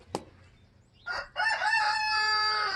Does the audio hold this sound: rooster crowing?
yes